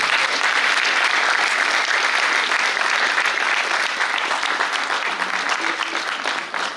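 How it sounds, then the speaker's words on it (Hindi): Audience applause in a theatre after a Hindi stage play, a loud, dense, steady clapping that stays full throughout and eases off slightly near the end. "एक बार और जोरदार तालियां हो जाएं इस बेहतरीन प्रस्तुति के लिए।"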